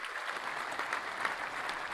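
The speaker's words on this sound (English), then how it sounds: "I appreciate that warm that warm round of applause" A warm round of applause from a live audience, steady dense clapping filling the whole moment at moderate distance, with no voices over it.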